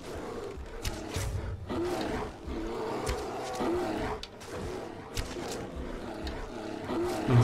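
A bear in Skyrim gives repeated low, growling roars over a steady rumbling game background, close and fairly loud, with no talk.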